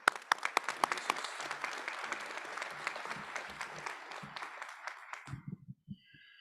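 Audience applause at a South Dakota Mines fall commencement ceremony greets a regent, a dense wash of many hands clapping that fills the hall, then thins into a few scattered claps before fading out.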